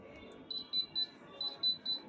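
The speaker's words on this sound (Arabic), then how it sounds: "هي عشان الباب مفتوح بتعمل الانذار" Refrigerator door-open alarm beeping in a kitchen after cleaning and repair, steady bursts of high electronic beeps in pairs, repeating over soft background noise, with no talk.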